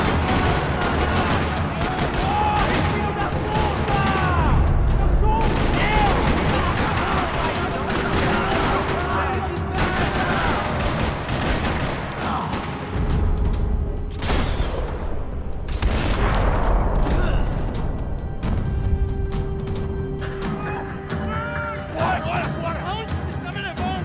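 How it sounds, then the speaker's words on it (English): Gunfire rattles through a parking lot in the video game Max Payne 3, with repeated bursts and sharp shots over a continuous action soundtrack, plus a few voices and shouts mixed in. "Another parking lot rattling with gunfire."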